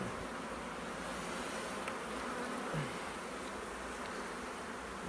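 Honeybees swarm around a fully capped frame lifted out of an opened hive, giving a soft, continuous buzzing hum that holds steady and stays fairly faint.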